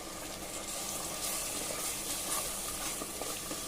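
Green masala of freshly ground coriander sautéing in hot oil in a pan, a steady close sizzle and crackle that holds evenly throughout with no voices.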